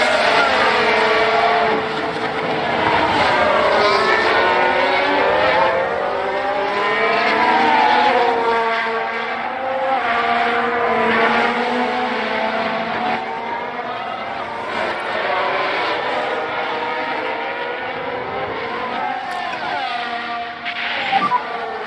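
F1 cars racing and overtaking in F1 Manager, with several high-pitched engines whining and sweeping up and down in pitch as they pass one another, loud and continuous throughout.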